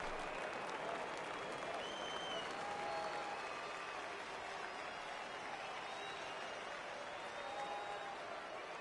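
Stadium crowd noise in the baseball video game MLB The Show 19 as a full count arrives: a steady, dense roar of cheering and clapping throughout, fairly faint and even, with no distinct speech.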